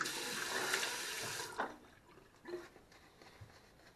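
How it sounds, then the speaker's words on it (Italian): Hot tap water runs loudly for a moment and is splashed over a face during a Sunday wet shave, then stops, leaving a few soft drips and splashes at close range. "una bella sciacquata di viso con acqua calda"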